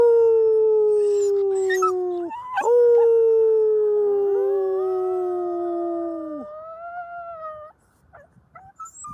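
A dog howls in long, sustained wavering tones, with a brief break and a second drawn-out howl, ending in a few short yips.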